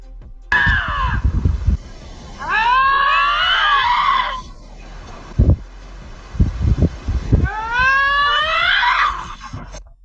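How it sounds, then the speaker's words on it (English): Two lynxes scream back and forth at each other outdoors, with long wavering yowls rising and falling in several loud bouts, broken by brief thumps and wind noise. "This man had to pull over to watch his two lynxes screaming at each other."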